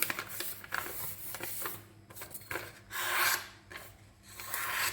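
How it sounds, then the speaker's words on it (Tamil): A sheet of paper is folded in half to cut out a heart shape for a wedding-anniversary surprise craft, giving close, crisp rustling and creasing swishes in several uneven bursts over a quiet background, with no talking. "ஃபர்ஸ்ட் வந்து நான் பேப்பரை 2ஆக ஃபோல்ட் பண்ணிக்கிறேன்"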